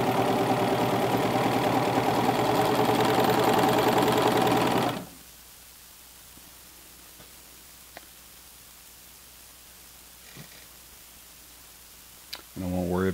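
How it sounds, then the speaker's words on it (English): A serger overlocker stitches the edges of a slant pocket seam on elastic-back pants, a loud steady mechanical whir for about five seconds that stops abruptly, leaving near silence with a few faint clicks and a brief noise at the end. "So I'll just keep serging the pocket edges."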